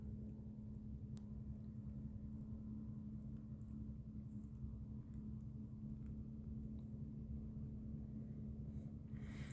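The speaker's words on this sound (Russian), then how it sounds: "Под шум работающих двигателей судов он идет." Ship and motorboat engines on the Ob river hum as a low, steady, distant drone at dawn, faint and continuous with no voices.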